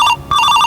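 A telephone rings with a short electronic ringtone, two bright pulsing bursts close and loud, with no talk.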